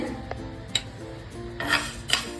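Coriander and cumin seeds dry-roast in a pan over a low gas flame, with a few light metallic clinks and soft scrapes of a spoon against the pan, quiet and close, with no talking.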